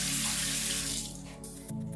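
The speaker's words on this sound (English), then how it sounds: "I'm just washing the leaves right now." Tap water runs steadily while leaves are washed with a soft foam at a sink during preparation of a Cameroonian peanut pudding (mboh); the flow is close and continuous, with the pitch shifting as it strikes the leaves and a brief pause near the end.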